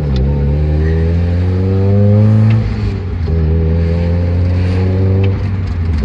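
A Mazda Miata engine revs up hard and close, its pitch climbing through the gears with a brief lift near the middle before pulling again, loud and steady with no talking over it.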